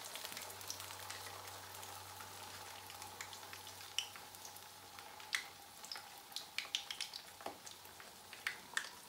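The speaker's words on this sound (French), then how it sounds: "You need to fry until it's golden and brown and crispy." Tilapia fish frying in hot oil, a steady soft sizzle with scattered crackling pops that grow busier toward the end, close and fairly quiet.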